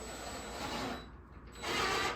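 A screw driven by a power driver into a wooden climbing wall panel: a steady, close grinding whir that stops briefly, then starts again louder.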